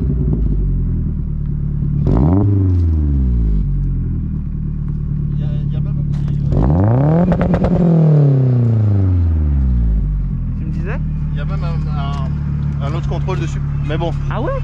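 Mazda MPS tuned past 500 hp starting up and revving, with two loud rising and falling revs over a rumbling idle close by, and people talking around it.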